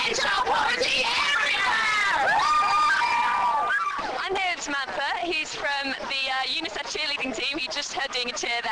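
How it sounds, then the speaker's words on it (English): A team of cheerleaders chants a cheer at an outdoor End Child Poverty rally: sustained group voices at first, then a quicker rhythmic run of shouted syllables, loud and close throughout. "Doing a cheer then."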